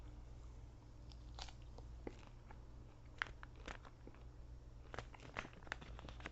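Beef jerky, a honey habanero flavor, being chewed close to the mouth, with repeated crunchy bites and wet chewing sounds in an uneven rhythm, alone with no talking.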